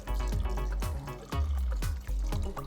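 Water pours and splashes into a pot of lamb curry masala in a few uneven surges, a close, steady gurgling stream.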